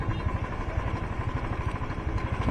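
A motorcycle engine runs at a toll booth on the Shimla–Kalka highway, a close, steady mid-pitched idle with a regular pulsing throb and light mechanical clatter, no talking.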